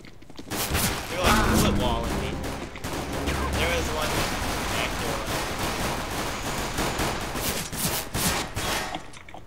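CS:GO gunfire in a firefight: dense, continuous crackling shots and bursts run throughout at moderate loudness, with a voice speaking underneath.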